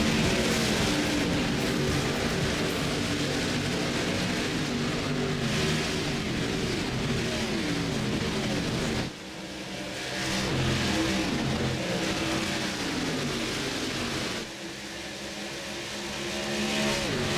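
A pack of race cars roars off at the green flag start in iRacing's Grand National Division at Fort Worth, Texas, a loud, dense, continuous engine blare with shifting revs and brief dips as the field accelerates.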